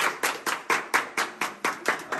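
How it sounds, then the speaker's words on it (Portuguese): Close, crisp hand clapping for Josué in a casual indoor setting, about ten sharp evenly spaced claps at a quick steady rhythm, loud and alone. "Salva de palmas pro Josué."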